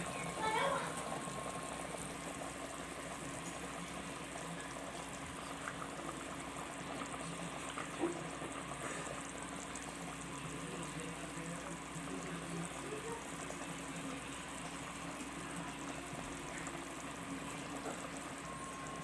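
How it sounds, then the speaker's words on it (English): A pot of water at a steady boil on a stove while rice flour balls are cooked in mutton gravy, a faint continuous bubbling hiss that runs throughout under quiet room noise. "After 10 minutes, the water is nicely boiling"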